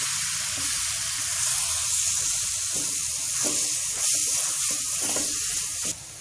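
Olive pickle cooks in a pan, a steady frying sizzle and hiss under repeated scraping stirs of an iron spatula against the pan bottom, close and continuous, ending abruptly.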